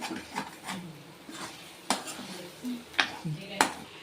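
A chicken fry with green chillies is stirred in a pan, with a muted sizzle beneath repeated metal spoon scrapes and sharp clanks against the pan at an irregular rhythm, and a voice briefly murmuring in the background.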